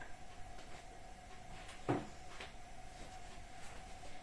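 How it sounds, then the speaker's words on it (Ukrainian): An oven door shutting after garlic goes in to dry, one short thud amid faint rustling and quiet handling sounds in a still room, no talking. "Ставлю в духовку і зачиняю."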